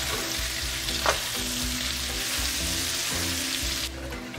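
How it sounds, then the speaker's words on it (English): Salted onions fry in a pot with a dense, steady sizzle close up, broken by a few scraping stirs of a spoon, with no voices. "And I'm gonna give it a good stir."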